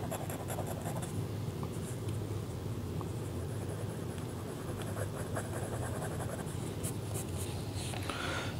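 A Mohi Tanishq fountain pen with its default EF nib and orange ink writes scratchily on paper, a steady, close, continuous scratching and scraping that lasts throughout.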